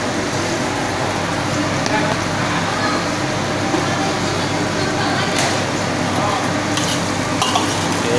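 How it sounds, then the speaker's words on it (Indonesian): Chicken for Balinese-spiced ayam bumbu bali stirred in a pan with lime leaves, lemongrass and bay leaves, a dense continuous sizzle with scraping stirs, loud and close. "Oke, kita aduk-aduk dan kita tunggu sampai airnya ini agak menyusut, sampai keluar minyaknya"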